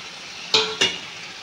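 Paneer being added to a frying spice masala in a pan, two quick close clattering knocks over a soft steady sizzle, with no talking.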